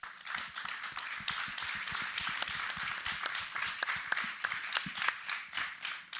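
An audience at a sustainability communication talk applauds with steady, dense clapping that carries on without pause, moderately loud and fairly close.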